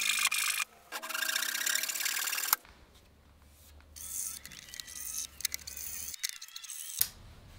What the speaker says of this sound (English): I cut away most of the excess of the splines with my Dazuki saw